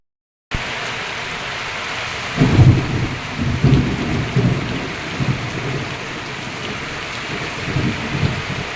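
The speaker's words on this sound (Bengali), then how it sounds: "আকাশে কেমন কালো মেঘ জমেছে, বৃষ্টি হচ্ছে, মেঘ ডাকছে" Steady rain pours throughout, with low rolling rumbles of thunder rising and falling in the middle and again near the end.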